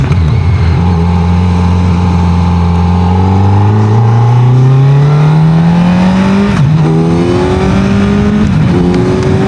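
A 2025 Kawasaki Z900 motorcycle accelerates hard and close, its engine note climbing steadily through the gears with a brief dip at a shift before rising again, loud throughout.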